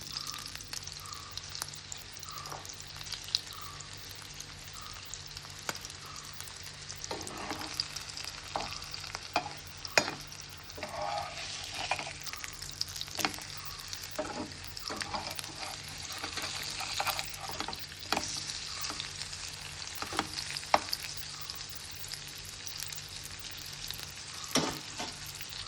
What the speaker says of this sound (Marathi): भाजताना तेजो वास बरो येता मसाल्याचो.